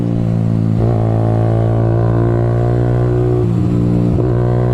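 A Benelli BN 125 motorcycle fitted with an aftermarket exhaust idles loud and close with a rich, throaty tone, and a few quick blips of the throttle rise and fall over it.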